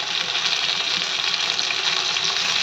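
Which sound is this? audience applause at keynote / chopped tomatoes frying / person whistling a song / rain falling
chopped tomatoes frying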